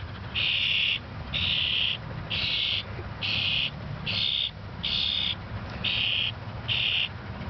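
A wild bird in an Erie, Pennsylvania backyard calls in about eight evenly spaced, steady high whistling notes, each lasting roughly half a second, loud and clear over a low background rumble.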